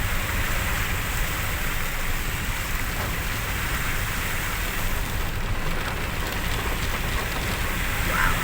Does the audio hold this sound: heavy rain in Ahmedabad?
yes